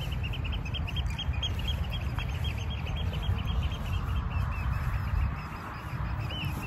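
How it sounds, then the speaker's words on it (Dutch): Steady outdoor ambience with a chorus of small birds chirping and calling continuously in the background over low rumbling noise. "Je hoort ook steeds meer vogels, hè, nu?"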